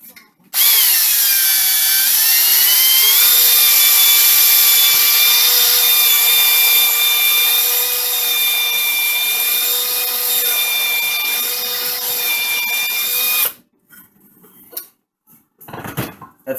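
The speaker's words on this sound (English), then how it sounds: "Come in with a drill." A power drill whines steadily at high speed for about thirteen seconds, loud and close, while cleaning a Smith & Wesson M&P 15 rifle chamber, then stops abruptly, followed by a few faint clicks and handling noises.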